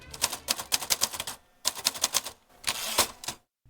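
A typewriter clacks out lines of a poem written on the spot, with quick bursts of keystrokes separated by short pauses and a longer carriage-like run near the end, close and alone.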